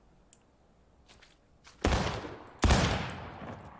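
Two sharp gunshots from a training exercise where shooters walk forward and fire at targets, the blasts close and loud with ringing decay, preceded by faint clicks and footsteps.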